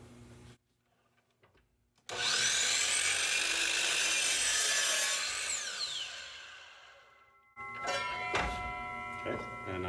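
A saw cross cuts a wood piece along a marked line on its miter side, making a loud, close, continuous whine that rises in pitch for several seconds, then stops before a shorter rattling burst.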